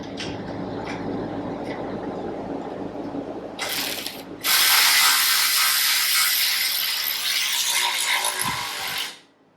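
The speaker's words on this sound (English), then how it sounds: "Alright, we'll just tighten these down." A ratchet tightens bolts while a creeper is assembled, first as scattered clicks and then as a loud, dense run of rapid ratcheting near the end before it stops abruptly, with no speech.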